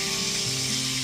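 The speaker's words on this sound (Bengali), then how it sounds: "ওই একই তেলের মধ্যে এবার ফোড়নে দিয়ে দিচ্ছি 1 টিস্পুন গোটা জিরে, একটা শুকনো লঙ্কা আর একটা তেজপাতা" Whole cumin, a dried red chili and a bay leaf sizzle in hot oil left over from frying fish, a dense, continuous close crackle with no voices.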